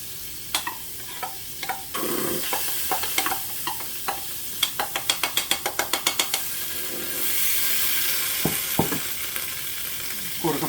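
Vegan butter, a quarter cup, melts in a hot pot with a steady soft sizzle, broken by sharp scrapes and a quick run of rhythmic clinks from a utensil against the metal.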